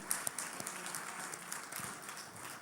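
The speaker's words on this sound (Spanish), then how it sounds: "Sabía cuando estaba preparando el sermón que en este momento iba a ir a aplaudir." A church congregation applauds faintly and at a distance, a soft, steady patter of clapping running for a couple of seconds.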